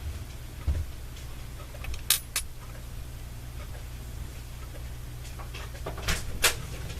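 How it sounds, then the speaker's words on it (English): A household door opens and closes in a quiet room, giving a few brief knocks and latch clicks over a steady low hum, with no talking. "sorry if you're hearing the door"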